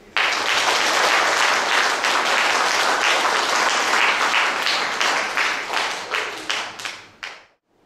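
Audience applause at an amateur choir's regular concert: dense, loud clapping from a large crowd that holds steady, then thins into scattered claps and stops.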